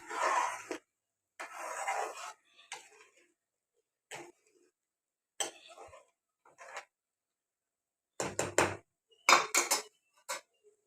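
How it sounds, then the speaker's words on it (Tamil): Boiled peas and peanuts tipped into a pot of simmering kurma, giving a few separate bursts of clattering and scraping of metal utensils against the pot, with quiet gaps between them and no talking. "இப்போ நம்ம வேக வச்ச பட்டாணியும் நிலக்கடலையும் சேர்த்திக்கலாம்."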